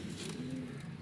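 Pigeons coo softly and continuously in a loft kept by a pigeon fancier, low rolling calls layered close by over a steady background hum.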